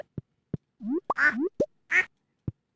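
Chickens on a Stardew Valley farm give short, cartoonish clucks and chirps, a handful of separate bird calls spaced apart against silence, close and clear.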